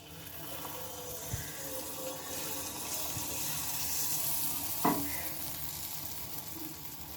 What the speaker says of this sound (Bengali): প্রথমে আমি অল্প একটু ব্যাটার দিয়ে ছোট্ট করে এগুলোকে ভেজে নেব